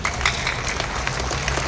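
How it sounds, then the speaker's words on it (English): An audience at a business career event applauds, a dense, steady wash of clapping from many hands heard briefly at moderate loudness. "I think I deserve more of a round of applause,"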